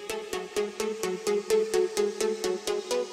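Bright synth arpeggio at 128 BPM pulsing in steady, rapid repeated notes, each with a sharp attack, playing alone at moderate volume.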